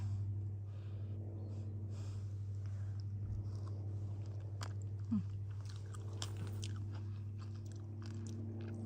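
Someone eats grapes outdoors, with faint close chewing and a few soft crunches over a steady low background hum, and no talking.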